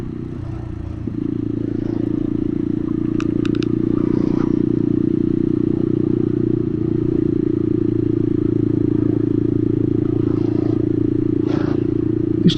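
A Bullit Hero 250 motorcycle rides along at a steady, close engine drone with faint clatter and scraping over the top, with no clear rev change marking the gear shift.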